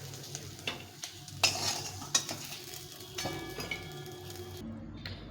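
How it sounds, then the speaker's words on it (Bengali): Small Morla fish frying in hot oil in a wok, with a steady sizzle under repeated clinks and scrapes of a utensil stirring against the pan, then a brief quieter moment at the end. "সব মাছগুলো ভেজে নিলাম লাল লাল করে।"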